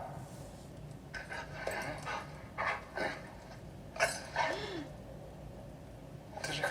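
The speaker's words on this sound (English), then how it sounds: "Like, that's a real dog." A dog barks and yips in a short sequence of sharp, mid-distance barks with a whimper mixed in, heard under background scene sound and faint voices.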